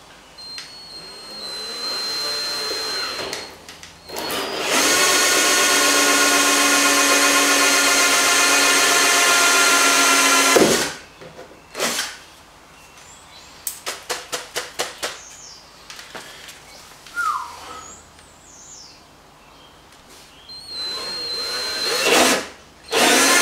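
A power drill bores holes into the plastic bumper of a Ford Mondeo for parking sensors, giving a long loud whine up close, followed by short stuttering bursts and a final brief run.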